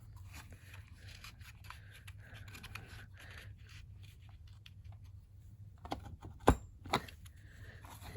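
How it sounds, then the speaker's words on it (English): Scissors snip the corners off small paper mini tags, with quiet light rustling and then two sharper, crisp cuts near the end, close by and without talk. "Then I'm going to cut the corners so they look like that."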